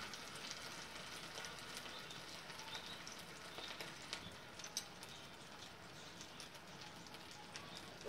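Chapli kebabs frying in hot oil on a griddle over low heat, a steady fine sizzle with soft crackles throughout, fairly quiet and close with no talk over it.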